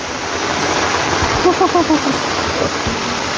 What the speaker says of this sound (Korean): 시원한 비소리. 비소리.